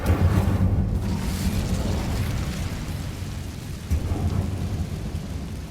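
A fire spell cast in the Hogwarts Legacy video game: a loud, sustained roaring, rumbling burst like flames or a blast, dense and continuous with a slight swell near the end.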